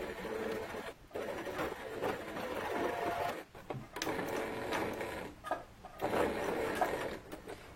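A domestic sewing machine stitches a seam on a ruffled dress close to the thread casing, running in steady bursts with brief stops between them, close and fairly loud.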